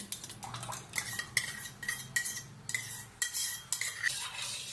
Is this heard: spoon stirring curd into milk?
yes